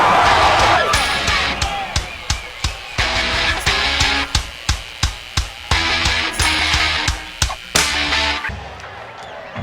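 Stadium crowd at a New Mexico State vs UTEP college football game in Las Cruces, a loud sustained roar with cheering and whoops, punctuated by repeated sharp percussive hits like drums or claps throughout.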